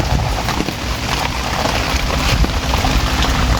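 Rain falls on garden plants and ferns, a close, dense patter and hiss of drops striking leaves that continues evenly throughout with no voices.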